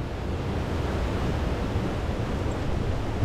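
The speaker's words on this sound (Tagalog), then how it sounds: "Ang lakas ng current ng tubig. Kasi umulan ng marami." Rushing river current swollen after heavy rain near War Eagle Mill in Rogers, Arkansas, a steady, broad, close roar of water with no talk over it.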